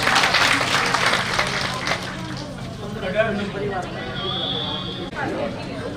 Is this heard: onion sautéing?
no